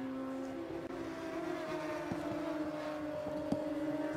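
Distant F1000 racing car engines at Silverstone International drone steadily with a high sustained whine, rising and shifting as cars pass, with no voices over it.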